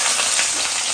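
Chopped onion frying in a pan of oil with fennel seeds, a steady broadband sizzle that holds at an even level through the whole moment, close and alone with no voices.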